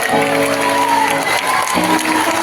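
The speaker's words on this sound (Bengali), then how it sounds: "একসাথে জোরে করে হাততালি" Applause and cheering from a crowd at a school Teachers Day cake cutting, clapping mixed with whoops while voices sing and call out over it throughout.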